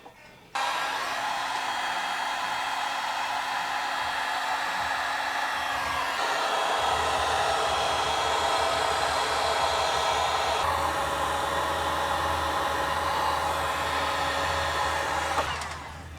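A heat gun blows in a loud, steady hiss that shifts slightly in tone partway through, alone and up close during work on a 1964 VW Karmann Ghia outlaw build, then clicks off.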